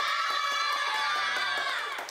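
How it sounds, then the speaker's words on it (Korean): A group of children cheers and shouts loudly in a sustained burst with scattered clapping, filling the whole stretch during a quiz game against their teacher. "박수와 함성!"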